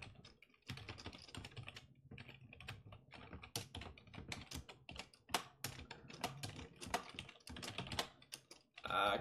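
Fast, uneven clacking on a good-quality computer keyboard during a programming session, with close, crisp keystrokes tapping in bursts and brief pauses.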